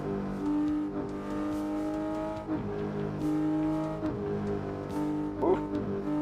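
The car engine in the racing game Assetto Corsa hums and revs through several gear changes at a steady moderate volume, with its pitch climbing and dropping repeatedly and a brief louder burst near the end.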